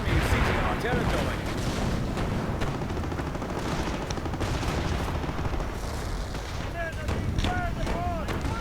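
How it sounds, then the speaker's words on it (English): Artillery barrage in a Company of Heroes 2v2 match: dense, overlapping booms and crackling blasts roll on without a break, loud and close. "And another registered barrage right in the center."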